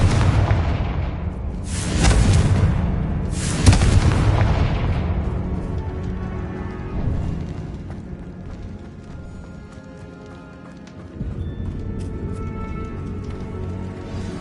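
Confringo fire spell blasts in the Hogwarts Legacy game, two loud booming explosions in quick succession with crackling bursts, fading into a long rumbling decay and low ambient noise.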